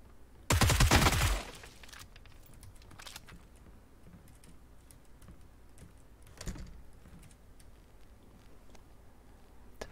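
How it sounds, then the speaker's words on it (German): Distant gunfire in PUBG, heard from outside: a loud burst of rapid shots near the start, a lone crack a few seconds later, then sparse faint pops and clicks over a low background. "Ich werde gerade von draußen beschossen."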